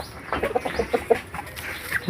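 Cobra-breed hens cluck in short, repeated bursts close by, a steady run of farmyard calls with no talk over them.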